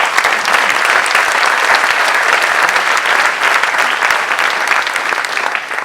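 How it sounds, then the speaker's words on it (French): Steady, dense applause from a sizable audience, loud and continuous throughout without talking. "Merci Nicolas, on peut l'applaudir aussi."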